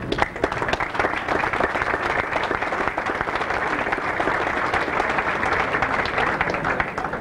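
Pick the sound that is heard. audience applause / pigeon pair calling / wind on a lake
audience applause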